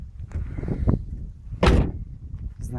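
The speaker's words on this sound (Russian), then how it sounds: "Вот, еще стучит замок, вернее петля замка." A loose hood latch hinge on a Renault Logan knocks when the hood is worked by hand: a couple of soft dull thuds, then one sharp loud clack, heard close with no talking.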